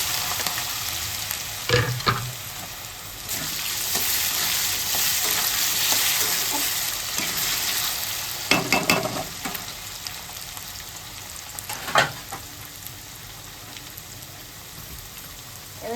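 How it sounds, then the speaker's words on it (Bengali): Potatoes fry and sizzle in a pan with a steady hiss, broken by a few sharper crackles and stirring clatters. "আলু ভাজা মনে হয়ে গেছে"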